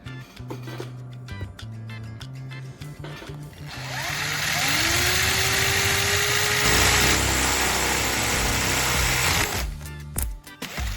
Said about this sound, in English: I will drill a hole at the bottom of the can